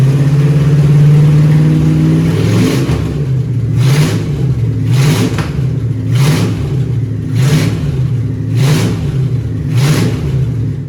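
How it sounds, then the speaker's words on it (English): A 1963 Buick Skylark convertible's 215 cubic inch 3.5L V8, freshly fitted with new plugs, wires and cap, starts up, then runs with rhythmic revs swelling and falling every second or so, loud and close with no talk. "check how she's running with some new plugs and some new wires and a new cap"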